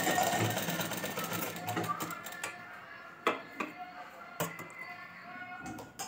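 A sewing machine stitching lengths of piping strip together for a Gujarati Rabari ghaghra border, its motor whirring steadily with a few sharp clicks and taps of the mechanism between bursts.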